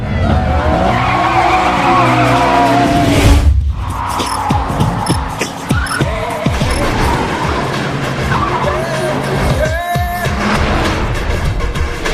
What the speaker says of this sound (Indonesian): Sky memakai Mitsubishi Lancer Evo dan Tangfung dengan menggunakan Subaru Imprezanya saling beradu kecepatan